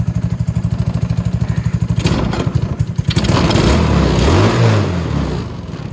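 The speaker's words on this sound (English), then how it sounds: "So we can idle it right down to there." A 125cc Venom Mini Jeep engine fitted with a Nibbi carburetor runs close by, first in a rhythmic low putter, then roughening into a louder, uneven clattering rumble as the speed shifts.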